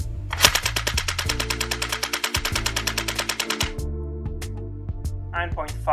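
Rapid sustained automatic fire from an airsoft M249 gas blowback machine gun fitted with a full steel bolt carrier and piston, a loud, dense rattle of evenly spaced shots running for several seconds, then stopping, followed by brief clicks.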